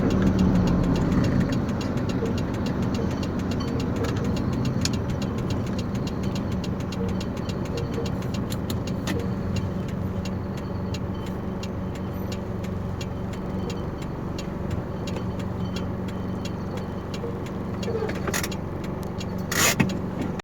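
A parked truck with a damaged engine and a load of about three tons idles loud and near in a steady, rough drone with faint knocking, running on with no break.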